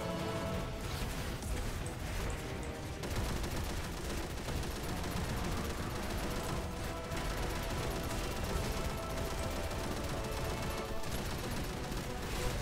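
Event weapon firing in Destiny 2, dense continuous gunfire and impacts blending into a loud, unbroken wall of shooting and game effects.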